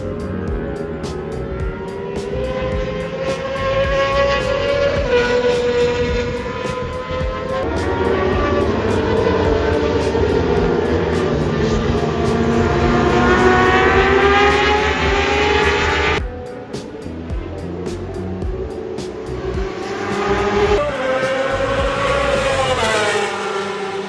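Large-displacement racing motorcycles pass on the Barcelona circuit, engines screaming at high revs with pitch rising and dropping as several bikes sweep by in succession, loud and continuous with gear-change breaks.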